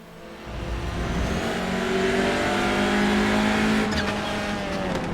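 A Hyundai Veloster TCR race car in the iRacing sim roars loudly, its engine climbing steadily through the revs with a brief scrape of tyre noise near the end.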